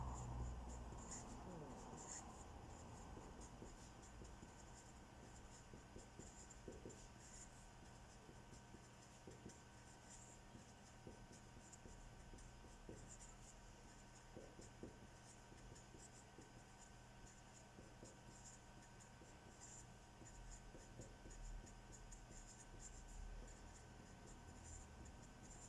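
Writing on paper while working out the times-three multiplication table: faint, steady scratching of a pen or pencil over a quiet room tone, with small irregular strokes continuing throughout and no talk.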